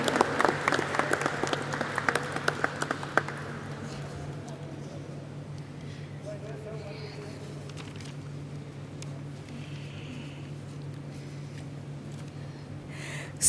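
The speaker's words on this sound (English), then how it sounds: "Let us have a resounding of claps to celebrate this moment." Applause from the audience at the stock exchange listing ceremony of Afcons Infrastructure Limited, a dense burst of clapping for about three seconds that then fades, leaving a low steady hum of the hall.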